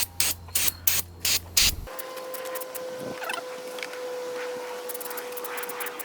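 An aerosol can of brake cleaner sprays brake calipers on a 1986 GMC Square Body truck in a handful of quick hissing bursts. A softer, steady hiss with faint background noise comes after the bursts.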